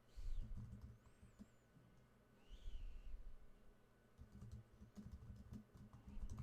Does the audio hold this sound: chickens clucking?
no